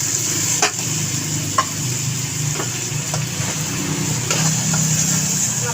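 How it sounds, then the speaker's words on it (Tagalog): Fried eggplant being stirred into pork alamang in a pan, with a spatula scraping and clinking over a steady sizzle, several sharp scrapes spaced a second or so apart, close by and without talk. "Ihalo na natin itong napritong talong."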